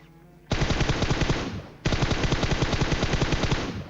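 Rapid automatic gunfire in the PUBG battle royale shooter, two long sustained bursts of closely spaced, loud shots with a brief pause between them, no talking.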